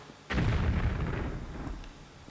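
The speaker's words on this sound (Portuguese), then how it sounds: "a gente escolhe a munição explosiva e equipa" A single explosive ammunition shot in Tomb Raider The Last Revelation, a sharp close blast with a heavy booming body that rumbles and fades over about two seconds, with no talking.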